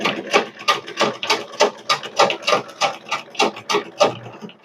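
A zig zag sewing machine stitches one side of a buttonhole at a narrow stitch width, a steady run of quick, close mechanical needle beats and soft clattering that keeps an even rhythm throughout.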